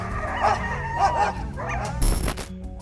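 Two guard dogs bark aggressively and yelp in short bursts at a bear raiding a birdcage for food, the barks close and overlapping, with a louder scuffle near the end.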